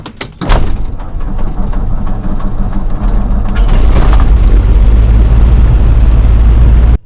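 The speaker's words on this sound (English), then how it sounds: "let's just start the engine" Beechcraft Bonanza A36 piston engine cranking and catching, a brief clatter before a steady loud rumble that swells and holds close by.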